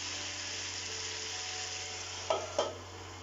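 Chicken tandoori cooking over a high gas flame in a frying pan, a steady broad sizzle with two brief louder knocks or clatters near the end.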